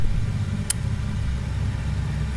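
A Bristol Blenheim Mk IV aircraft's engine runs with a steady, deep, droning rumble throughout, with one brief sharp click partway through.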